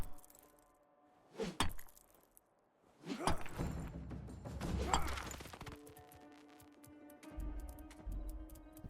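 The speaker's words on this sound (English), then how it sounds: "Rock explosion, there it is." A rock explodes while being mined in the video game RuneScape: Dragonwilds: a sharp crack, then a louder, longer crunching burst of smashing debris that trails off into lighter rattling.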